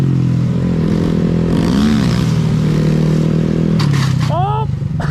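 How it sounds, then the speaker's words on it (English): A Grom motorcycle engine drones steadily, then a brief scraping clatter marks its crash near the end; people talk and shout over it throughout. "That was probably the more graceful crash I've ever seen"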